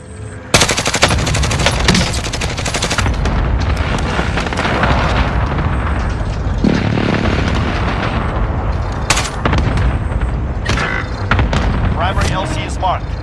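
Airstrike and gunfire in the video game Call of Duty: Warzone: continuous loud machine-gun bursts and booming explosions fill the whole stretch, with in-game voice callouts over the barrage.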